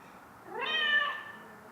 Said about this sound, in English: it's basically purring, which is pretty cool